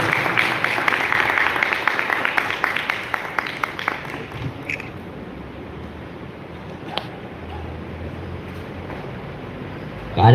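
An audience gives loud, sustained applause as parents are welcomed onto the stage at an event in India; the clapping is dense at first, then thins out and fades toward the end.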